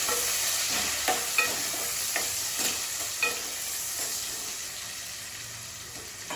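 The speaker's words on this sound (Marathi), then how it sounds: "टोमॅटो छान परतू द्यायचे." Tomatoes sautéing with onion and garlic in a pan for palak paneer, a steady close sizzle broken by repeated scraping stirs of a spatula, with no talking.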